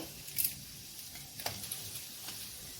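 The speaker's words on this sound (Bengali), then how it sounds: "তেল গরম হয়ে গেছে, এবারে আমি গরম মশলা দিয়ে দিচ্ছি। তারপর 2টো শুকনো লঙ্কা ফাটিয়ে দিচ্ছি" Garam masala and two dried red chillies hit hot mustard oil, giving a soft steady sizzle broken by a few sharp crackles and pops close by.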